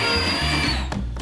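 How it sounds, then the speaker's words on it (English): A power drill running in reverse to back screws out of a wooden board and rail clamp assembly, a close, continuous whirring hum with a brief dip near the end. "putting my drill on the reverse setting, I'm going to back off of these screws"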